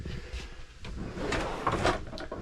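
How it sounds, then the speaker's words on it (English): A small drawer in a camper converted from a cargo trailer slides open and shut, giving quiet, close wooden rattles and scrapes with no voices. "Just a little bit of a miscellaneous drawer, kind of keeps some silverware"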